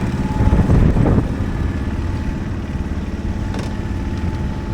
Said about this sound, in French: Là on sort, donc on sort au moteur.